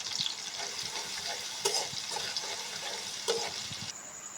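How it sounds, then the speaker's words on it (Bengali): Garlic sizzles and crackles in hot oil in a pan, a steady close frying hiss with a few soft clicks and stirs, no voices. "এখন একটু তেলে দেব, অল্প রসুন দিয়ে দেব।"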